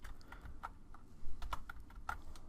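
Keys clatter on a computer keyboard as an SQL query is typed into SQL Server, a quick run of light, close clicks with a few firmer taps and no talk.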